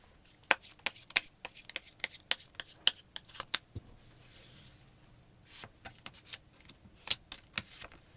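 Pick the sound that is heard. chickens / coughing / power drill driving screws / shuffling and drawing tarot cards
shuffling and drawing tarot cards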